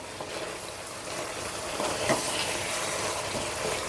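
Chicken and mixed vegetables sizzle softly in a pan, a steady low frying hiss with a few brief stirring scrapes near the middle.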